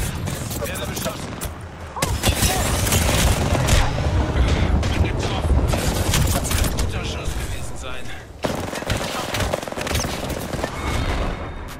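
Sustained video game gunfire in bursts and volleys, with machine-gun rattle and booms, loud and dense throughout, with brief dips near the start and middle.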